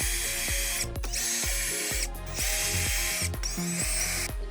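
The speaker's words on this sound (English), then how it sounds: "I'm going to use a drill" A power drill unfastens T15 screws in close, loud, continuous whirring, with its pitch repeatedly rising and dropping as each screw turns out and the trigger is pulsed.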